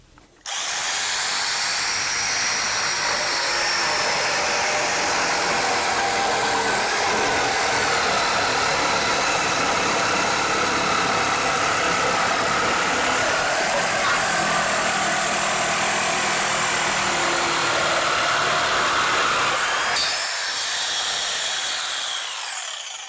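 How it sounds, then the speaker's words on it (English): A jigsaw cuts decorative ends on long 12-foot pergola joists, its loud, steady buzzing drone running nearly twenty seconds before cutting off, with no talking over it. "I'm just going to use a jigsaw instead."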